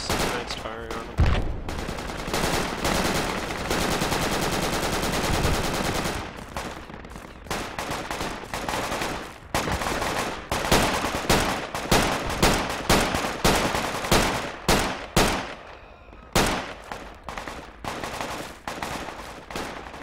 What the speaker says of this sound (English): we've commenced firing on them